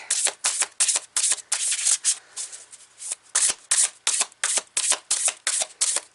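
Tarot cards are shuffled by hand in quick repeated bursts, a crisp riffling rasp that starts and stops in a steady rhythm, close and alone.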